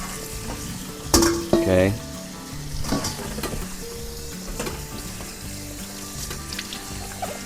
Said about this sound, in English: So now I'm just gonna go ahead and drain them off.